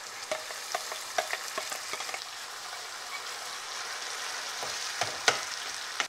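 Ground coriander paste sizzles and fries steadily with sliced onions in hot oil, a dense crackling hiss broken by occasional spoon stirs and clinks.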